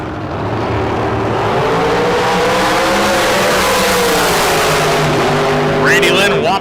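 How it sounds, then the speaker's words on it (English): Drag racing cars launch down a dragstrip at a bracket race event, a loud roaring engine blast sustained and rising as the cars accelerate away, with an announcer talking over it. "Randy Lynn whopping the throttle for a win light by 2/10 thou."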